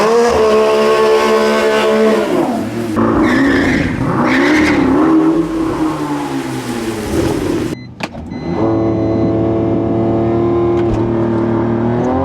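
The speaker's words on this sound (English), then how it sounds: "Burnout here." A 2025 Chevrolet Corvette ZR1 doing a tire burnout at a drag strip: a loud engine roar rising and falling, tires squealing and scrubbing, then a brief cutoff and a renewed, steady high-revving drone.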